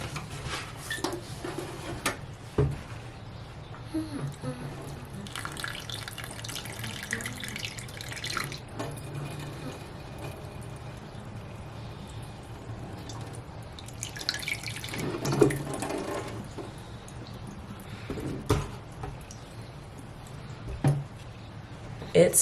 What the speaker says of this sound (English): I'm gonna water my plant.